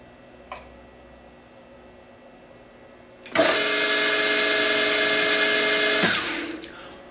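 A milling machine cutting metal with a 3.5 mm end mill, heard as a loud steady whine with a bright tonal hum that starts abruptly, holds for about three seconds and then fades as the cut ends.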